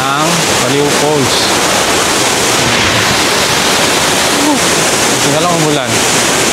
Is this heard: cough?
no